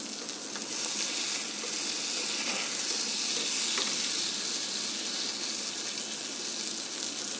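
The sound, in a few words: sardine frying in a pan while being flipped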